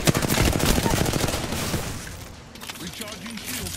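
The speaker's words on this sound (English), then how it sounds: "I'm gonna hit you with a Kraber." Heavy gunfire from the Apex Legends video game, including a Kraber sniper rifle shot, comes as a rapid burst of loud cracks. It thins out into scattered impacts and tails, with a player talking over it.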